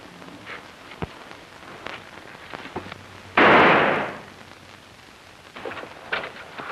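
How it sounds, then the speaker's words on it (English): A pistol shot fired at a hat tossed into the air cracks once as a loud, sharp burst with a short decaying tail, set against quiet outdoor background with faint scattered noises. "That's pretty good shooting."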